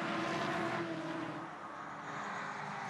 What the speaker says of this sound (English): While the leaders whiz on by to start another lap